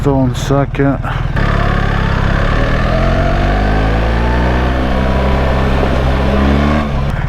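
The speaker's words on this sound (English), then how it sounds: "it's like boom, boom, boom, every time it upshifts" A loud 2025 BMW 1300 GSA motorcycle engine climbs in pitch, drops sharply with each upshift, then settles into a steady, heavy drone close by.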